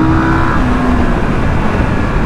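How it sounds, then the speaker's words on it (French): A 2024 KTM 990 Duke motorcycle engine runs steadily and loudly, its pitch holding fairly constant throughout with a slight rise early on, and no voices over it. "je vous laisse un peu profiter du bruit du moteur"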